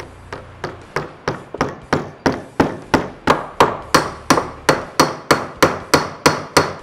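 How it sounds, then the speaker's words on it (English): A small hammer taps a wooden wedge into a wooden mallet in a steady run of about twenty sharp, evenly spaced knocks, close and crisp with short ringing decays. "I'll take a little hammer and tap it in."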